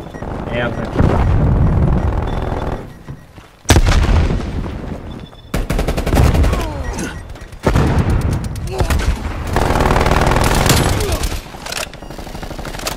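Dense, loud gunfire in a first-person shooter video game, with rapid bursts, heavy booming blasts and echoing shots coming in waves, with a few short pauses between them.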